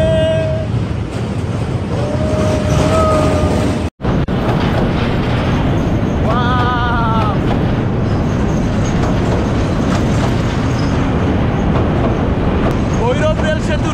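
Train crossing the Bhairab railway bridge, a steady loud rumble of wheels and carriages throughout, with horn-like tonal blasts over the continuous roar and people talking nearby.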